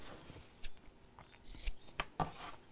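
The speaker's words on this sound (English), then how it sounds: "So let's snip across corners." Sewing scissors snip across fabric corners, a few quiet, close, separate cuts spaced irregularly over a near-silent background.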